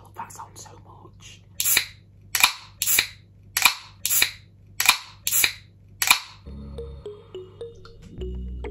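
A Skinny Food Co grape drink being opened, heard as a series of about eight sharp, snappy clicks or pops in a steady rhythm, close and fairly loud, followed by a low rustling hum.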